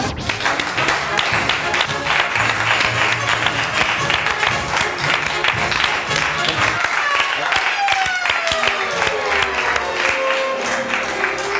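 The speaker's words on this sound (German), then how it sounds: "begrüße jetzt mit einem herzlichen Applaus" A concert audience applauds to welcome a tenor onstage at a new-music classical show. Dense, steady clapping fills the room throughout, with voices mixed into it.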